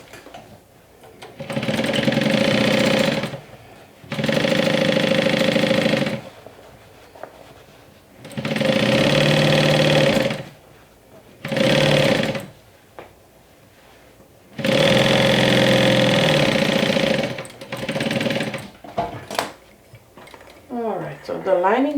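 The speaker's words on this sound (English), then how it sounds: "stitch it down with the seam allowance going down." A sewing machine stitches down a dress lining in steady humming runs of a couple of seconds each, separated by brief pauses, loud and close, with a voice speaking briefly near the end.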